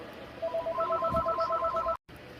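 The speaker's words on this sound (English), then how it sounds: "I guess as you heard, I had to take another phone call" Telephone call tones play as a rapid series of about a dozen evenly spaced electronic beeps, clear and moderately loud over a low background hum, ending abruptly in a brief dropout.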